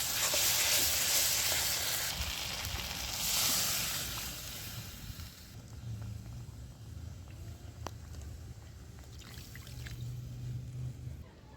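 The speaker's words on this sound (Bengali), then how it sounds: "মশলা থেকে তেল ছেড়ে গেছে। এবার আমি জল দিয়ে দেবো।" Water poured onto hot fried spice paste in a pan bursts into a loud hiss that fades after a few seconds, leaving a quieter simmering sizzle with faint handling sounds.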